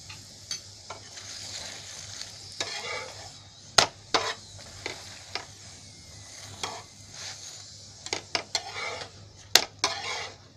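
A sesame-jaggery til gul poli flatbread roasts on a pan with ghee drizzled over it, under a low, steady sizzle broken by frequent close spatula taps, clinks and scrapes.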